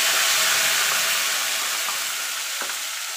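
Ginger, garlic and onion paste dropped into hot oil with bay leaves and cumin, a loud, bright frying hiss that slowly eases, with a couple of faint spatula scrapes in the pan.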